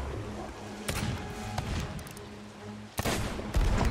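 Pistol and sniper rifle shots ring out in the pirate game Sea of Thieves: a few sharp, loud reports spaced a couple of seconds apart over a steady background rumble of game ambience.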